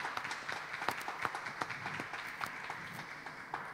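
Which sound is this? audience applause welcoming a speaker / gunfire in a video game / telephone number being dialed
audience applause welcoming a speaker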